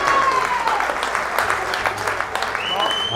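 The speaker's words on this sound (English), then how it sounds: "And the home crowd applaud." Home crowd at a Devonport Services versus St Austell rugby match applauding, a sustained spread of clapping from a distance, with a commentator talking over it.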